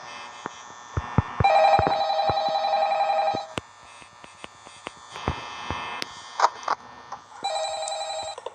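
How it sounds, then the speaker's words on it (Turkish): Telephone ringing in the Five Nights at Freddy's 2 video game: repeated electronic ring bursts over a low mains-like hum, punctuated by sharp clicks and thumps, with no voices. "Şey telefon çalıyor."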